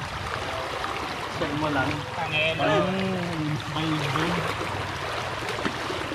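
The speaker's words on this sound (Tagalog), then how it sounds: "Malakas yung alon dito eh." The strong current of the Bitbit River in Norzagaray, Bulacan rushes and trickles continuously at close range, beneath the voices of people talking.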